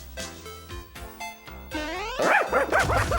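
Several sharp dog barks in quick succession, then a rising, excited run of yelps and whines, close and fairly loud, from a cartoon dog.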